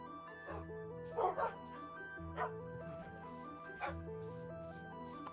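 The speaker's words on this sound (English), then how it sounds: "You can hear dogs and puppies." Several dogs and puppies yip and bark in short bursts, fairly faint, over steady music with a sustained tone. A few sharper barks stand out now and then.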